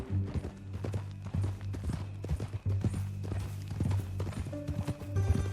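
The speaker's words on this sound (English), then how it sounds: "That a new horse?" Horse hooves clip-clopping in Red Dead Redemption 2, a steady rhythmic stream of close, moderately loud hoofbeats over a low droning background with tonal game sounds.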